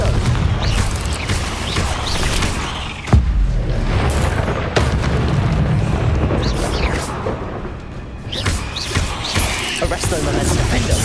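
Confringo explosion spells cast in the video game Hogwarts Legacy, with loud booming blasts and rumbling combat effects that run continuously under shouted voices and game noise.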